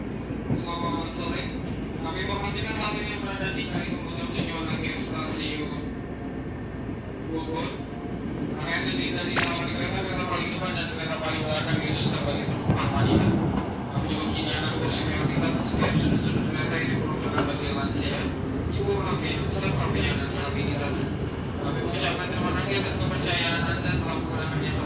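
KRL commuter electric train rolling on the new track from Jatinegara station toward Pasar Senen, heard from on board: a steady, loud rumble and rattle of wheels on rails throughout, with a speaking voice running over it.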